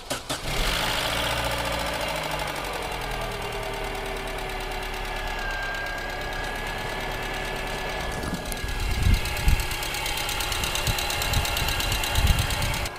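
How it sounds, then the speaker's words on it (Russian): A car engine started from cold and idling with an extra knocking noise, a steady loud mechanical drone with rhythmic ticking, growing rougher and more uneven toward the end. "запустили двигатель на холодную, и уже мы слышим дополнительный стук"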